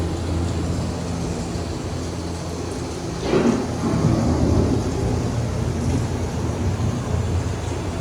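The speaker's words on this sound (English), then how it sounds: "The approaching storm may seem violent and destructive to us, but to nature, it's a new beginning in the cycle of life." A thunderstorm rolls in, with a long low rumble of thunder swelling midway over a steady wash of rain and broadband noise, heard alone and fairly close throughout.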